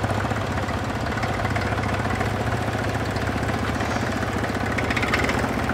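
A three-cylinder tractor engine of 2.4 litres and 32 horsepower runs steadily at a tractor parade, with a continuous loud, close, low chugging throb and rattling vibration and no voices over it.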